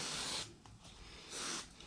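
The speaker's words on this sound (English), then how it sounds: "And then I'm going to spray here" Aerosol spray hissing onto walnut and purple heart boards during a glue-up, two broad bursts about a second apart, fairly close and steady, with a quiet pause between them.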